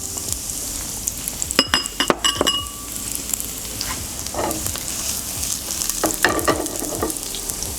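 Garlic sizzles in hot oil at high heat for egg fried rice, a steady crackling fry broken by sharp metallic clinks and scrapes of a utensil against the pan, with no talking.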